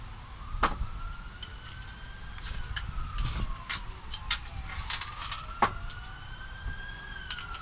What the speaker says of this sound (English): There's sirens, there's things going on